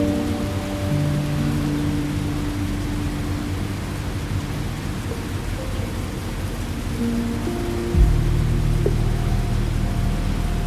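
Steady rain falls at night around a vintage British steam train, a continuous soft hiss with a low rumbling drone beneath and a deeper shift in tone near the end.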